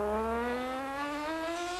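A superbike engine, including a Norton motorcycle, racing at the North West 200 road race, a loud sustained whine rising steadily in pitch as it accelerates, dense with harmonics.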